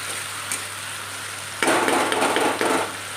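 Spice paste for katla fish curry is fried in a pan, with a low sizzle that bursts into loud, busy crackling and scraping as stirring begins, continuing close up to the end.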